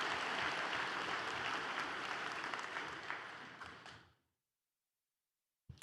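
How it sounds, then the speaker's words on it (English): Audience applause at a high school graduation ceremony for student speakers, a dense, steady wash of many hands clapping that fades out after about four seconds into silence, followed by a brief noise at the end. "How about a big round of applause for all of our student speakers this evening?"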